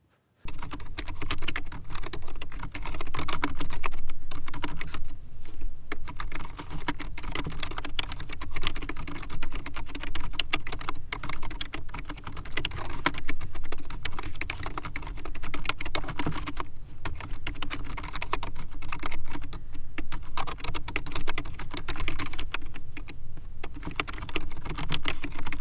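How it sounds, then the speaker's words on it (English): Typing on a Microsoft Wired Keyboard 600, a light, full-size USB keyboard with spongy, fairly quiet keys, produces a continuous close-up patter of rapid keystrokes for about 25 seconds, with no talking. "This is the Microsoft Wired Keyboard 600. It's a standard, full-size USB keyboard"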